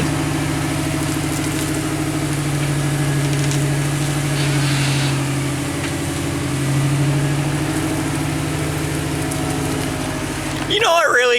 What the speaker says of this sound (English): we're gonna pull in the Camry